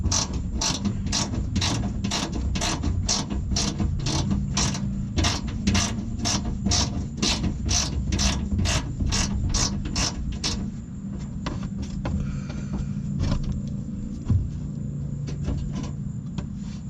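A ratchet loosens a 10mm bolt holding a Toyota Camry bumper cover to the fender, clicking in a fast even run of about twenty close strokes, then stopping into quieter handling noises, with no talk.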